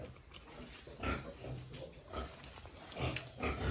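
Piglets being handled on a farm grunt and squeal in short bursts, with several rising calls close by and quiet gaps between them.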